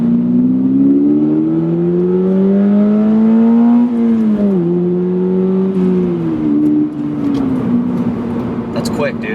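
A 2022 Subaru BRZ in normal mode pulls hard at full throttle in second gear, its engine note climbing steadily and loud from inside the cabin before easing off, with a person talking over it.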